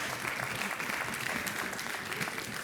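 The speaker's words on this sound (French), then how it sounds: "Vous pouvez vous applaudir." An audience in a studio session applauds itself after singing together, a dense, steady wash of clapping holding at even strength from start to finish, with no voices rising above it.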